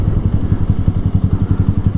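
A Lifan KPR200 single-cylinder motorcycle is ridden on the street, its engine giving a loud, close, steady low thumping pulse with an even rhythm throughout.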